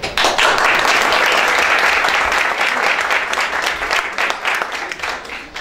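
An audience at a techathon final presentation applauds a presenting group, a loud, steady round of clapping that holds for several seconds and thins slightly toward the end.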